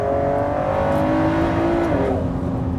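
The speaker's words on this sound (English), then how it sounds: "But that engine, I was sceptical about a V6." A Ford GT supercar's V6 engine revs hard on a race track, a loud sustained roar with rising and falling pitch as it accelerates, heard from inside or close to the car.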